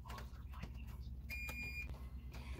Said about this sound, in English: You guys just heard the beep.